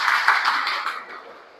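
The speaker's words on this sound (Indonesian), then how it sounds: "Oke, tepuk tangan dulu buat kita semua." A school class of children applauds together, a dense wash of clapping hands that starts loud and steadily fades out within a couple of seconds.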